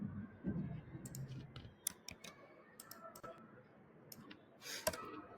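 Computer keyboard keys clicking in scattered, uneven presses while code is deleted in a Python coding session, fairly faint and close, with a low murmur early on.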